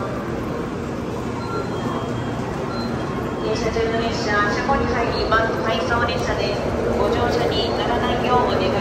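A steady rumble and hiss fills the cabin of a moving Japanese bullet train, continuous and even, with faint voices talking now and then.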